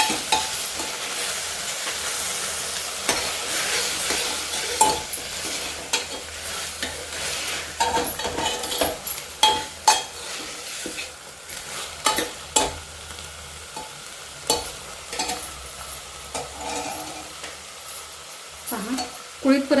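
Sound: horse gram being sautéed with fried onion

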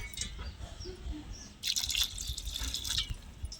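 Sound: water being poured into a bowl

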